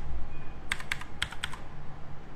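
Keystrokes on a Gameone mechanical keyboard, a handful of crisp clicky presses grouped in two quick bursts against a quiet room, close and alone.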